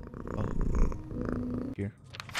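A cat purrs softly in a horror video game, a low steady rumble running under a voice calling to it, then fading as brief game sounds follow.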